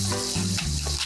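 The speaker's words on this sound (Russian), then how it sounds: "Обжариваем." Scallops frying in a pan, a close, steady sizzle filling the brief moment, with faint background tones beneath.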